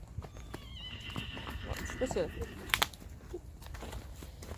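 A horse walks during a ride, its hooves clip-clopping softly and unevenly beneath a rider's close speech, with a faint whinny-like call partway through.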